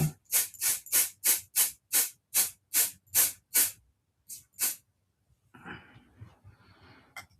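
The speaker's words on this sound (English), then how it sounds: "Make sure I got the right side that I am spraying." Rapid regular bursts of a spray bottle, about a dozen sharp hissing pumps close by, then two more and a softer rustle.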